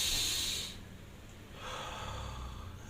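A person recovering from coronary heart surgery blows out forcefully through the mouth during a breathing exercise, a loud breathy rush followed by a softer, longer breath, close and alone.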